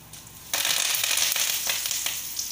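Mustard seeds, asafoetida and turmeric hit hot oil for a pineapple gojju tempering, bursting into a loud, dense sizzle with crackling pops that continues steadily after a sudden start.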